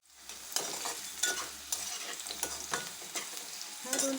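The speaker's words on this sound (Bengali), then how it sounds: "আমার আমটা ভাজা ভাজা হয়ে গেছে" Mango pieces being fried in a pan sizzle steadily while a utensil stirs them in repeated scraping strokes, close and moderately quiet, with no talking.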